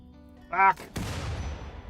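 Explosive device detonating in the Rimworld video game: a short tonal blip, then a sudden loud boom that rumbles and crackles away over the next second.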